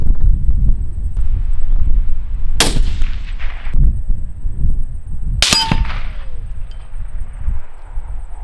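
Two loud rifle shots fired outdoors in Southland, New Zealand, sharp cracks a few seconds apart, the second ringing out longer, over steady wind noise.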